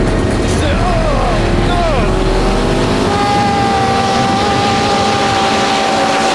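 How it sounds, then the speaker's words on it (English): A Vauxhall Victor car pulling away at full throttle. A loud, close engine roar climbs in pitch early on, then settles into a sustained, strained drone. "So we can nail the throttle and then release."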